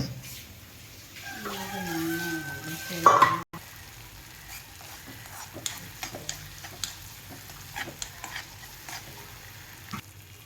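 Chopped green chilies sizzle in hot oil with garlic, ginger, onion and tomato for goat brain fry, a steady close crackle punctuated by stirring scrapes and a rooster crowing briefly in the background.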